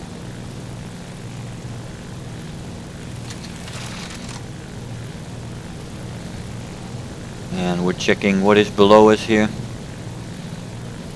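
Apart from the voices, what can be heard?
A7M1 propeller plane engine in video game War Thunder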